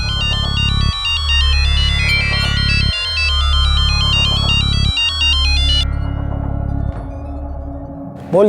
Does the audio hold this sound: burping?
no